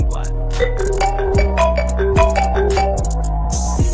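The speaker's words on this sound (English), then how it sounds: "Your phone's ringing." A mobile phone rings inside a fancy car, its electronic ringtone melody repeating in a steady rhythm of bright tones over a low hum.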